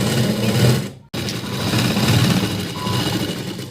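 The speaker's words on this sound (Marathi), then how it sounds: "अशी अगोदर मी मोठी शिलाई मारून घेतली" Sewing machine stitching the neckline of a blouse, with a fast, steady mechanical whirr close by that stops abruptly for a moment and then resumes.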